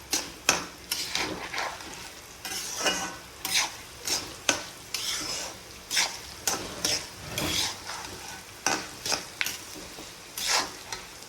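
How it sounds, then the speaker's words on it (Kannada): Cumin, poppy seeds and turmeric frying in a pan for sambar powder, with repeated scraping stirs and clinks of a spoon against the pan over a light sizzle, close and rhythmic. "ಒಂದು 2-3 ನಿಮಿಷ ಫ್ರೈ ಆವಡು"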